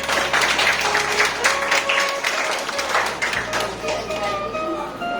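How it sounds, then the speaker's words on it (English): Applause from an audience at a school literary competition, a busy wash of clapping under a steady low hum, with some tonal sounds from the room mixed in. "All the participants also deserve this round of applause"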